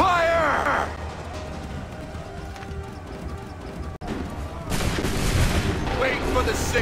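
Musket volley fired by a line of soldiers in the video game Assassin's Creed 3, a dense burst of gunfire that erupts partway through, over horse hooves and shouted battlefield commands.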